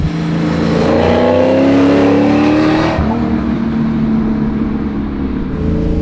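A supercharged custom Boss 302 Mustang accelerates hard in third gear with a little tire spin, its engine tone rising loudly and steadily, then dropping to a lower drone as it pulls on.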